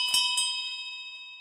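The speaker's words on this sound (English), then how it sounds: "as the landlord rings the bell for final drinks" A pub landlord's hand bell rings for last orders: two quick bright strikes, the second following a fraction of a second after the first, then a long shimmering metallic ring that slowly fades, close and clear with no talking.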